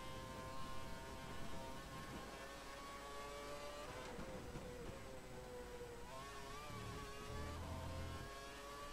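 A Formula 1 car accelerating in F1 2012 at the US Grand Prix, a high whining engine note rising in pitch through the gears with brief dips at shifts, steady and close with no talk.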